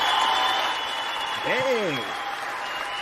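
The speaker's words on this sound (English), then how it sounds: "Clap." Studio audience claps in welcome for two podcast guests on a wrestling debate show, a steady wash of clapping with a voice speaking briefly over it.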